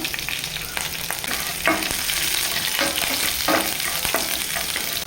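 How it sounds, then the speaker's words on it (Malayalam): Mustard seeds, ginger and green chili sizzle in hot coconut oil, giving a steady loud crackle with scattered sharp pops and spatters and a few utensil clicks, and no voices. "എണ്ണ ചൂടായിട്ടുണ്ടായിരുന്നു അപ്പം ഞാൻ അതിലേക്ക് കുറച്ച് കടുക് ഇട്ട് കൊടുത്തിട്ടുണ്ട് ഇഞ്ചി ഇട്ട് കൊടുക്കാം പച്ചമുളക്"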